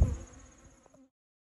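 Honey bees buzz close by around a beehive, a short, faint, wavering drone that fades out after about a second.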